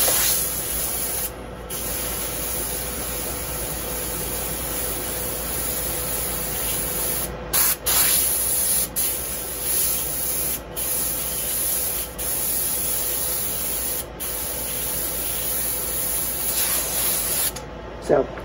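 An airbrush sprays paint with a steady soft hiss throughout, broken by a few brief pauses and clicks, while a person talks quietly alongside.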